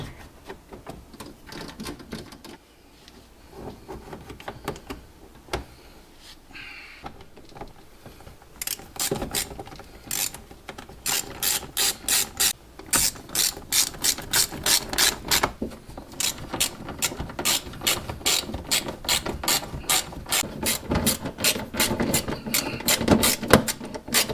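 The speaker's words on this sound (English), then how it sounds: "So this one we will tighten last after we install all the 8mm screws." Ratchet tightening 8mm screws while fitting an M2-style bumper on a BMW M235i, rapid runs of sharp clicking strokes in bursts, close and fairly quiet, with softer handling noises between.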